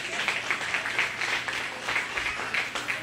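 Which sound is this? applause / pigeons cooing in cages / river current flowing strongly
applause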